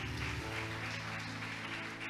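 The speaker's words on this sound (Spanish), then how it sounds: "le damos un aplauso grande al Señor" A church congregation applauding during a sermon: a steady, dense wash of clapping that holds evenly throughout, with background tones from music or the hall underneath and no clear voice on top.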